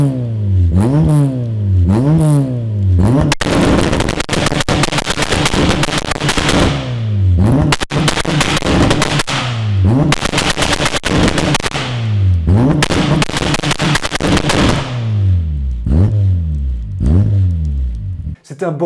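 Custom Audi engine revving hard with repeated rising and falling sweeps, punctuated by loud crackling exhaust bangs and pops, close and very loud throughout.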